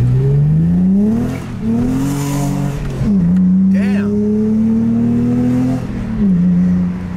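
A car on new Falcon Azenis RT615K+ tires is driven hard, its engine revving up and dropping in several loud, rising pulls with brief gear-change dips. A person talks over it.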